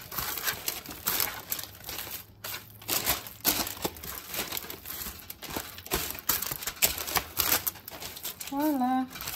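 Hands mix braised Cameroonian soya meat, making close, uneven crinkling and squishing sounds in bursts, with a voice speaking over them.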